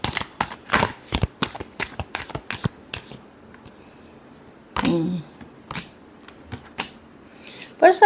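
Tarot cards being shuffled by hand in a rapid run of crisp riffling snaps, then a pause with a soft flutter, a few more card slaps and a final shuffle burst; close and clear, no talking.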